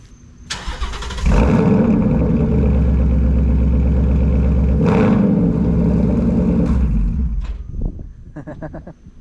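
A Roush Terminator 10th Anniversary Cobra fires up nearby: a starter crank, then a loud, rumbling exhaust that settles into a steady idle. After a quick blip the engine cuts off, leaving a faint clatter.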